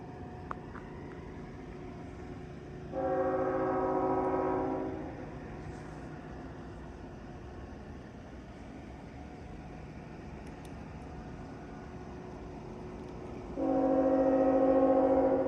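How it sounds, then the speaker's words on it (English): Locomotive 104 sounds its horn at a road crossing on the Bala and Newmarket line, two distant, steady chord blasts over a low background rumble, the second longer. "104 blew its horn while going through St. John's Side Road"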